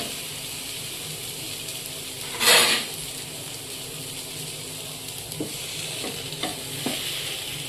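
Boiled eggs frying on a hot tawa, giving a steady soft sizzle with one louder burst of spatter early on and a few light clicks of a spatula toward the end, no talk.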